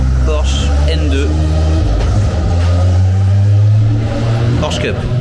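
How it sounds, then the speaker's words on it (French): A Porsche Cup race car engine at Circuit Paul Ricard gives a loud, steady low drone with shifting revs that runs through the whole stretch, while people talk over it. "Porsche Cup."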